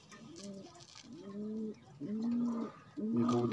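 A striped pigeon coos close by in four repeated, rolling calls at an even pace, with quiet background noise between them.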